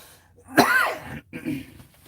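A single harsh cough bursts out close by, followed by a softer throaty sound.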